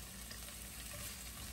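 Garlic and galangal frying in a pan while a blue crab curry is being cooked, giving a steady, continuous sizzle with faint stirring close by, with no talking over it.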